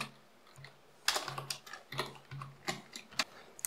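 Computer keyboard typing while code is written, with irregular bursts of close, quiet key clicks and occasional louder taps, under a faint steady hum.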